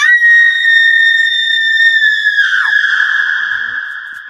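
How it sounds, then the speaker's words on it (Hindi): A terrifying scream rings out from inside a haunted mansion in a horror story, a loud, sustained high tonal wail that holds steady for several seconds, then bends and fades slightly toward the end. "हवेली के अंदर से एक दिल दहला देने वाली चीख आई"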